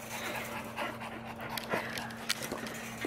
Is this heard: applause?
no